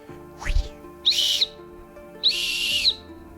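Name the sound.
turbo whistle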